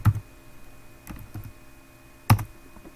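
A few sparse keystrokes on a computer keyboard sound as close, isolated clicks separated by short pauses.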